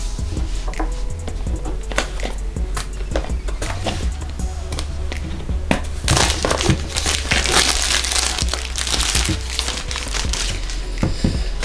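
Plastic wrapping is peeled and torn off a OnePlus X phone box, giving close, continuous crinkling and crackling with sharp rustles that grow denser toward the end.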